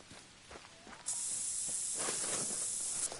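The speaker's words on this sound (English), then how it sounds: "This means, yes, I'm wasting the spray," Spray hissing in The Hunter: Call of the Wild, a steady bright hiss that starts after a second of quiet rustling and runs continuously for about two seconds, loud and close, with no talk.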